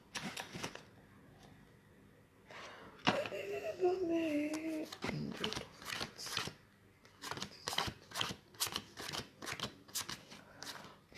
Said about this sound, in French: Et pourquoi les cartes sont mélangées?